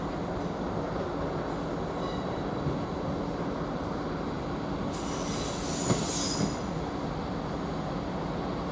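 A Class 158 diesel multiple unit rolls into Norwich railway station, its wheels squealing loudly and steadily against the rails, with a sharper high screech swelling near the end as it slows.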